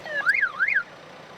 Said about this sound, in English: For the boom remote, a siren will sound when it achieves sync.